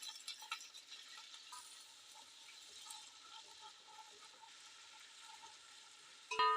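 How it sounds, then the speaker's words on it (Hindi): Onions with garam masala sizzle softly in hot ghee while being stirred for a beef pulao, a faint, steady crackle with small scraping bursts and a louder clatter at the very end. "प्याज को मुसलसल चलाते रहें, जलनी नहीं चाहिए प्याज।"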